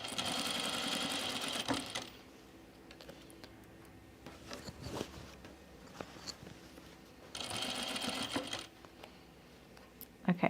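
A sewing machine stitches a dress in two bursts of steady mechanical whirring, separated by a quieter stretch of handling clicks and fabric shuffling, with faint talk nearby.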